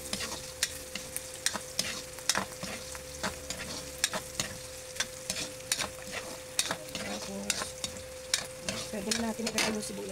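Meat sautéing in a pan for dinuguan, a steady frying sizzle broken by regular sharp scrapes and clicks of a spatula stirring it, close and continuous with no talking.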